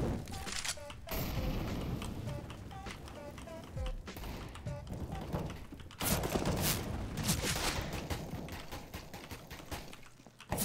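Gunfire in a first-person shooter video game: sharp, clustered shots and bursts at moderate volume, with a distinct quiet gap before the firing resumes, under faint background game sounds.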